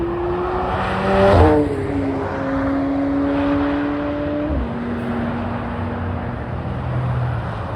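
A red McLaren 720S with its 4-litre V8 passes by on a road near Le Mans during the Le Mans Classic, a steady engine drone with a shifting pitch and a brief swell as it goes by, fairly close.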